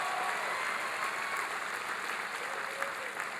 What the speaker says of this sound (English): Give Barbara a big round of applause